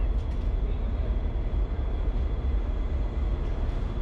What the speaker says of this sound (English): It is a really long train.